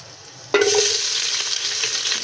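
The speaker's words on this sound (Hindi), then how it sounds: "चलो पहले प्याज ऐड करेंगे इसके अंदर।" Chopped onions hit hot oil for khichdi, setting off a sudden loud sizzle after a half-second of quieter background that then keeps frying steadily with crackling spatter.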